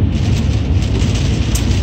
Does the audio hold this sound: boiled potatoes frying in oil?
no